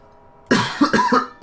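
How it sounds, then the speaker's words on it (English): A person coughs several times in quick succession, close to the mic, while dealing with a week-long bad cough. The harsh bursts come in a short cluster with a final cough trailing after a brief pause. "I've been having a bad cough for like the whole week right now"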